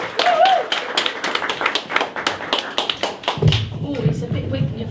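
Comedy club audience clapping for stand-up comedian George, a brisk scattered run of claps that thins out, then gives way to a low thump and room noise with a voice over the top.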